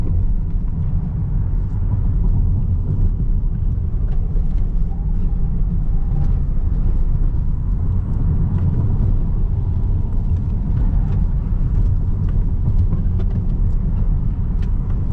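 A new Tesla Model 3 Performance driving on the road, heard from inside the cabin as a steady, loud low rumble of road and tyre noise with no engine note, continuous and unbroken with no talk.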